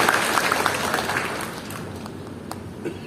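Church congregation applauding at a Tiberias service, a broad steady wash of clapping that starts full and loud, then gradually thins and fades toward the end.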